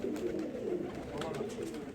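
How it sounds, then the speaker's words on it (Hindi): Homing pigeons flock in to land and coo, a low steady cooing murmur close by throughout, with faint talk in the background. "बीट मारते आ रहे हैं ये कबूतर"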